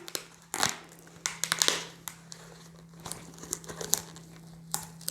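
Rubber balloon crinkling and squeaking as air is let out and the end is tied, a close series of rubbery rubs and crackles in irregular bursts.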